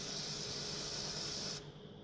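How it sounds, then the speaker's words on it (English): Aerosol cleaner sprayed onto the mass airflow sensor of a 2006 Mazda 6, a steady close hiss running for about a second and a half before cutting off abruptly. "you're going to get your mass airflow sensor, and I'm going to place mine right there. So I'm doing this with my hand, and you're just going to spray the crap out of it"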